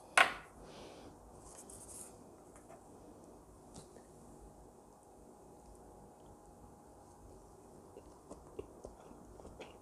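Someone bites and chews a plain Korean rolled omelet (gyeranmari) with carrot, a soft close-up crunch at the start and then quiet, faint mastication with no talking.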